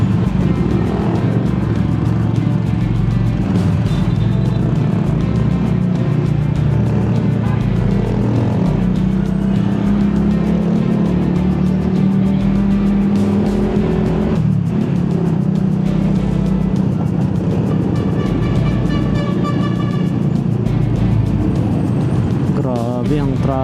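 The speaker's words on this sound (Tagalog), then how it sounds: "Grabe ang traffic." Heavy traffic on United Nations Avenue near UN Station, a constant loud wash of car and motorcycle engines with revving and passing vehicles close by, heard from a ride along the road.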